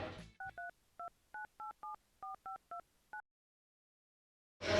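A phone number is keyed in as a series of short, evenly paced touch-tone beeps, about a dozen, clear and close, followed by a brief silence.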